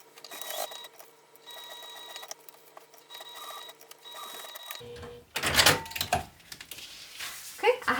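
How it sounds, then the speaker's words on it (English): A sewing machine stitches a 1/8 inch seam to attach pieces of a mini tote bag, running in short intermittent bursts for about five seconds before louder clattering handling noises take over. "I'm going to sew 1/8 inch away to attach these"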